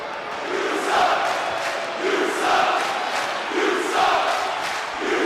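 A wrestling arena crowd in WWE 2K22 roars in rhythmic swells, a loud chanting mass of voices rising and falling about every one and a half seconds like a repeated jeer.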